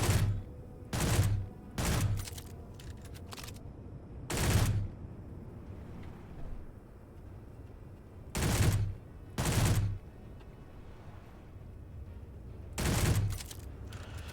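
Gunfire in the Conflict Europa video game comes as separate loud bursts of automatic fire, about seven short volleys spaced irregularly over a quiet background, with no speech.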